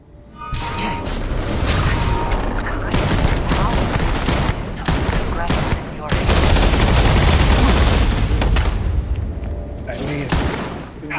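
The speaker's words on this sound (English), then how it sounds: "I'm going to use Void Form right now to avoid his attack, and then we'll start shooting" Dense gunfire from the video game Power from Beyond crackles in continuous loud bursts with a few brief gaps, the shots rattling and booming close up for most of the stretch.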